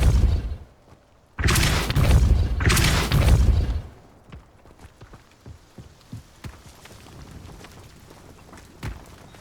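A Depulso spell cast in the video game Hogwarts Legacy, bursting out as two loud, heavy whooshing blasts in quick succession, followed by scattered softer thuds and footsteps as things settle.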